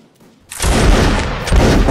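A massed musket volley in the video game Mount and Blade Warband: Napoleonic Wars during a line battle event, one loud booming burst of overlapping shots that rolls on for over a second after a brief quiet moment.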